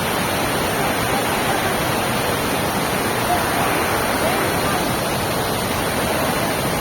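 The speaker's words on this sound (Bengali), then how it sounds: "এটা ক্যানেল থেকে এরকম ঝর্ণা তৈরি হয়ে গেছে" A small waterfall spills from a Mahanadi canal at sunset, a continuous broad rushing roar of falling water, steady and close throughout.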